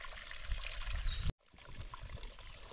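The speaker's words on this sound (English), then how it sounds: "This is where I'm gonna fill up my water." Mountain stream water trickling and pouring steadily beside the Appalachian Trail while a hiker fills a water bottle, a continuous close splashing wash with a brief dropout midway before resuming.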